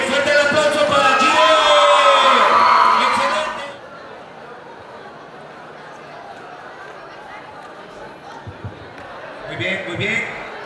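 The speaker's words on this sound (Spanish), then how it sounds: "Muy bien, fuerte el aplauso para ti." A school presentation audience at Instituto Católico erupts in a loud burst of cheering and crowd noise with laughter, then cuts back to quieter room ambience with scattered voices and a brief rise near the end.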